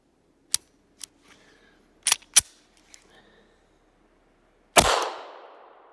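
A Ruger LCR revolver fires 150 grain high-tech coated standard-pressure .38 Special target rounds, giving several sharp, loud reports at uneven intervals, followed by a closer, heavier blast whose ringing tail fades out.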